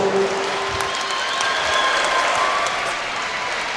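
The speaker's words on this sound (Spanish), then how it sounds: "les permitamos a estos dos guerreros disfrutar de un muy fuerte aplauso" Crowd applause after a boxing fight, a sustained, even roar of clapping filling the arena, with a faint tonal hum running beneath it.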